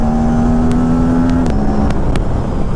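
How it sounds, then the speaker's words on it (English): A KTM RS 457 motorcycle engine holds a steady, loud drone as the throttle opens, the pitch climbing, shifting and dropping, with a few sharp clicks on top. "I just open the throttle and it goes."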